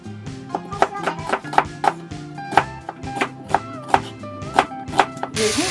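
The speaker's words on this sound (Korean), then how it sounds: "양파를 약간 작은 거 3개 정도 썰었어요" A knife chops small onions on a board in quick, close, irregular strokes, about a dozen sharp knocks ringing out over a few seconds.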